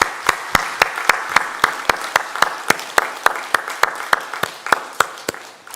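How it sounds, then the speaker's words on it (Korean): A church congregation applauding during a Sunday service, with strong rhythmic unison clapping that beats steadily and fairly loud for several seconds in a large room. "우리가 한번 오래간만에 박수 한번 뜨겁게 치시면 어떨까요?"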